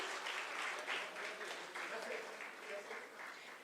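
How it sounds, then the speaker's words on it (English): A crowd applauds continuously at a university foundation day celebration, with a voice speaking over the clapping. "Please big round of applause."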